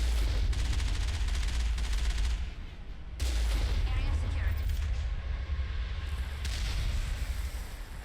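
Gunfire and incoming rockets in the video game Mass Effect: sustained loud bursts of rapid shots with whooshing passes, a short lull in the middle, then the firing resumes.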